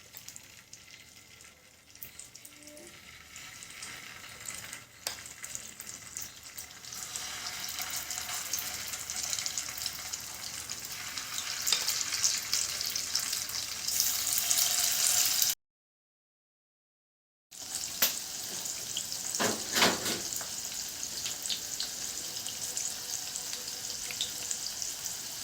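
Chicken pieces frying in hot oil for chilli chicken, a steady close sizzle that grows denser and louder, with a brief dropout and a few clinks of a utensil afterward.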